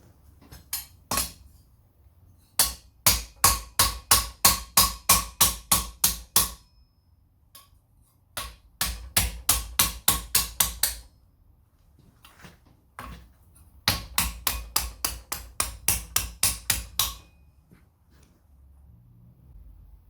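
Steel armor lames for knee armor are hammered over an anvil horn in quick, evenly spaced ringing blows, loud and close, in four separate bursts of about a dozen strikes each with short pauses between.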